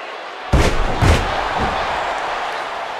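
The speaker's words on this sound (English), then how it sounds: "And did you hear the impact on that kick?" In the WWE 2K14 wrestling video game, a kick lands during a ladder match with two sharp, heavy slam-like impacts about half a second apart, followed by a sustained arena crowd roar.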